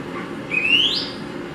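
A person whistles a bird song of an endemic Colombian species an octave below its natural pitch: one clear rising whistled phrase, close and alone, over faint background noise. The voice imitates the bird.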